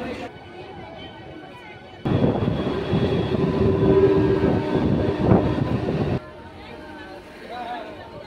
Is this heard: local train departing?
yes